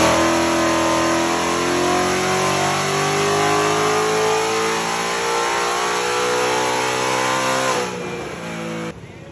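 A VMP Odin or GEV 5 Whipple supercharged Ford Mustang revs hard on a dyno, its engine note climbing steadily at high volume before dropping off abruptly near the end.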